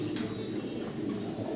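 Soft, low cooing of newly bought pigeons, a faint continuous murmur at close range with no talking.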